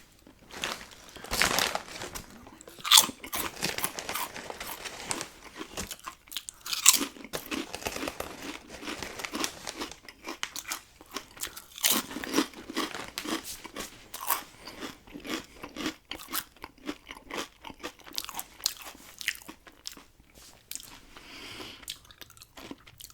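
Sour cream and shamrock Irish potato chips crunched and chewed close up for a long stretch, with steady crisp bites and crinkling between them and no talking.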